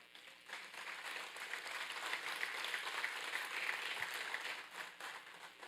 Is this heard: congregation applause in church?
yes